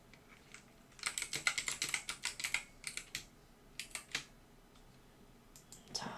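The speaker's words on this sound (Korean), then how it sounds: "컨트롤 시프트 눌러서 복사할게요." Keys pressed on a computer keyboard, including Ctrl and Shift, heard as a quick cluster of crisp clicks followed by scattered single taps, close and fairly quiet in an otherwise still room.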